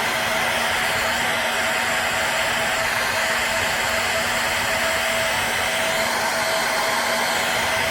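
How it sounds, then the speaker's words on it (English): A heat gun blowing hot air to melt a plastic blow mold, a loud, steady, close whirring hiss with a constant tone, running alone without a break. "adding the heat gun just makes it even better. Again, heat it and melt it in."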